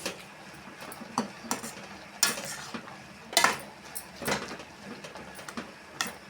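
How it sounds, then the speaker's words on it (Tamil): Chopped ponnanganni greens are stirred in a pan, the spoon knocking and scraping against the metal in irregular sharp clinks, with a faint sizzle underneath. "கீரையை போட்டுட்டு நல்லா கலந்து விட்டுக்கலாம்"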